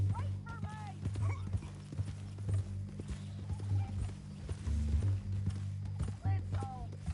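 Steady hoofbeats of a horse walking along in Red Dead Redemption 2, heading toward Saint Denis, sounding as an even clip-clop beneath a droning score while characters' voices come and go over the top.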